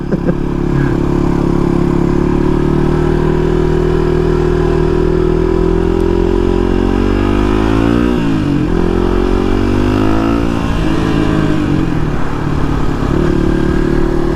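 Suzuki DR250 motorcycle engine on a work commute, running loud and steady throughout with a deep continuous drone, easing off and pulling again around the middle before settling back to a constant cruise.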